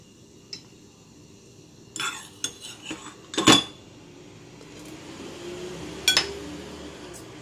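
Spoon scooping fermented fish sauce from a container, giving a few light, close clinks and taps of metal on dishes, sparse and quiet with no talk.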